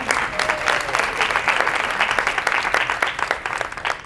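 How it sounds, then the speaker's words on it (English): A round of applause from an audience, loud and sustained, many hands clapping in a thick continuous patter that holds for about four seconds. "Please give her a round of applause."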